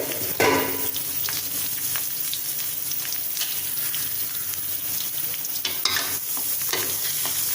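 Eggplant fries in oil in a pan while being turned and stirred. A steady, close sizzle runs throughout, with sharper crackles and spatula clicks now and then.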